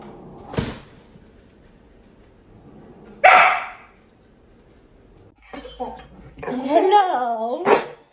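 A dog gives two sharp barks, one early and one louder a few seconds later, close to the microphone, followed by a person talking.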